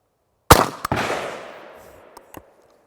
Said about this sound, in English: You can hear people shooting.